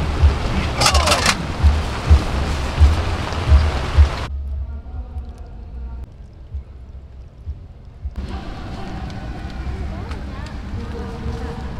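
Heavy rain pours onto a Borneo 6 tent in a dense, hissing roar that drops out for a few seconds before returning, with voices talking at times.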